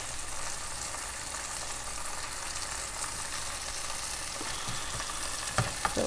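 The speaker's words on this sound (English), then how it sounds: "you can roast them on a high flame because they are already boiled" Diagonal cubes of boiled raw banana sizzle steadily as they roast over a high flame, a constant close frying hiss with a few faint clinks near the end.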